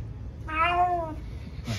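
A house cat in a home workout space gives a single clear, drawn-out meow lasting about half a second, fairly close, followed by a short noisy rustle.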